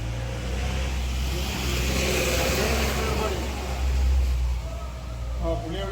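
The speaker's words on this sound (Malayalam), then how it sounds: "അതിവിദഗ്ധമായി നമ്മുടെ ഇടവഴി കൂടെ ലോറി പോകണുണ്ടോ" A lorry rumbles steadily through a narrow residential lane, its engine droning low and close for the whole stretch, swelling slightly near the end, with voices talking over it.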